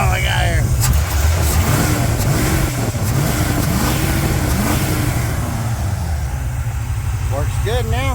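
A Pontiac 350 V8 fed by a Willis carburetor runs loudly close by, its rough idle rising into several revs and falling back, with a steady low rumble throughout and a voice speaking over it near the end.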